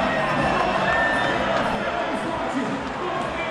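Loud crowd cheering and roaring at a basketball dunk contest during an all-star weekend event in Ewing's home arena, a steady dense wash of voices with no break.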